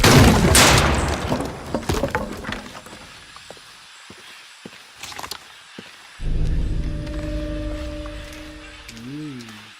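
A shotgun fires in the video game Shadow of the Tomb Raider, a loud close blast that echoes into a decaying rumble. A few clicks and thuds follow before a droning tonal sound rises, and a voice talks.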